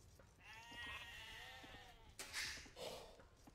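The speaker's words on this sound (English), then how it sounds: "There's two sheep there." In Age of Empires, two sheep bleat one after another, wavering cries over faint game ambience, with a sharper burst of noise near the end.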